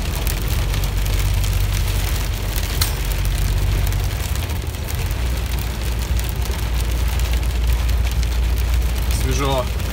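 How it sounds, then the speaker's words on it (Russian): Heavy rain mixed with hail pounds steadily on a moving container truck, a loud unbroken hiss and drumming that lasts throughout with low road rumble beneath. "Хороший ливень."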